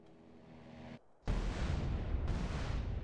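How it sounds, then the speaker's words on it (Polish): An explosion in GTA San Andreas bursts out suddenly after a quieter stretch, a loud broadband boom that roars on for a couple of seconds. "Mały ten wybuch."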